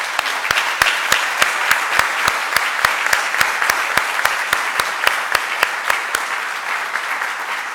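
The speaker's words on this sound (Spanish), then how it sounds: "para quienes pido un fuerte voto de aplauso" An audience at a university honorary doctorate ceremony breaks into sustained applause, dense clapping with a few sharp, loud claps standing out and the crowd's applause carrying on steadily throughout.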